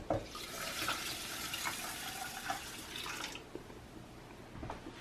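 Water pouring from a tap into a rice cooker bowl of rinsed rice, a close rushing stream for about three seconds that cuts off, followed by quieter drips and small handling sounds.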